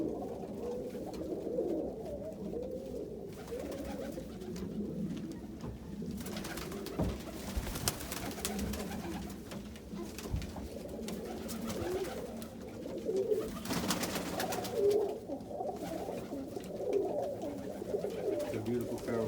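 Roller pigeons coo in a loft, soft repeated low cooing from several birds over a continuous murmur, with scattered wing flutters and thumps, and someone talking at times.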